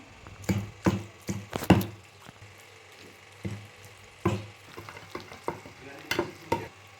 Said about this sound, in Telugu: తర్వాత టమాటాలు అయితే వేసుకుంటున్నాను.